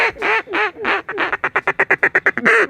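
Ducks at a stock dam quack loudly and close, a rapid run of short repeated quacks between longer nasal calls, with no talk over them.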